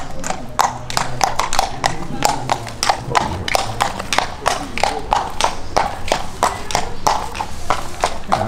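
Horse hooves clip-clop in a steady, even rhythm across the grounds of a riding stable, close and distinct, while people talk over them.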